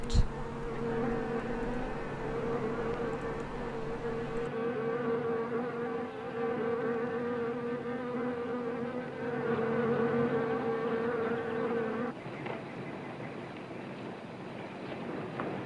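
Many wasps buzzing steadily in a film scene, a dense droning hum with layered tones that holds level, then drops abruptly in the final few seconds.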